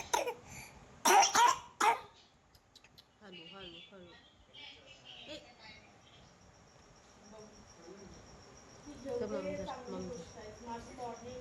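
A sick child coughs in a few harsh, close bursts at the start, followed by quieter throat sounds and soft vocalizing while crickets chirp steadily in the background.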